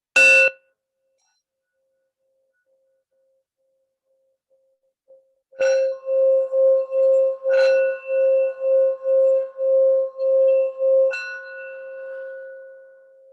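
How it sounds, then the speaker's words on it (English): A meditation bell is struck once, then again several times after a pause. Each clear ringing tone hangs in a quiet room and fades slowly. "close your eyes and I'll ring the bell just to clear whatever we have learned so far"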